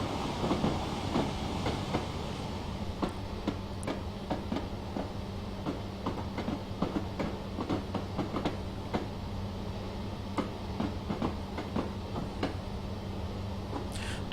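A Class 303 EMU in Train Simulator on the Woodhead Line runs steadily with a low rumbling drone and regular clickety-clack wheel beats throughout, no voices over it.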